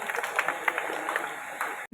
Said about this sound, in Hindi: बहुत बहुत तालियां बजा करके, तालियों की कंजूसी ना करें।